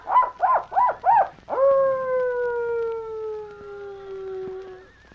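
A voice imitates a coyote as a signal, starting with four quick rising yips and then a long, sustained howl that slowly falls in pitch and fades out.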